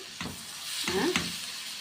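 Chicken breast cut into shawarma-style strips sizzling with onion in a frying pan, a steady close hiss with a few stirring scrapes and clinks, no talking.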